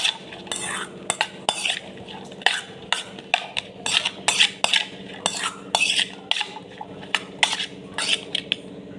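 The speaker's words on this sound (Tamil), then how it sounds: "எல்லாத்தையுமே சேர்த்து நல்லா மிக்ஸ் பண்ணிக்கலாம்." A spoon stirs ingredients and oil together in a metal pot to mix a puffed-rice snack, with rapid, close scraping and clinking strokes repeating steadily in a brisk rhythm and no talking.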